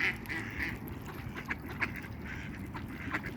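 Ducks quack in short scattered calls while feeding on seeds at a pond, the calls fairly faint and spread over a soft outdoor background.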